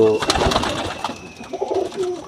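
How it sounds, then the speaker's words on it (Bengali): A pigeon of a local Khulna breed coos close by in a few low throaty bursts, with a faint voice briefly underneath. "খুলনার একটা স্থানীয় জাত দিয়ে করা এই কবুতরটা"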